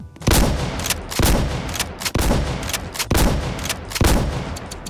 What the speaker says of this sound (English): Let's see if this shotgun can take infinite bullets by selecting the INF word in the sandbox menu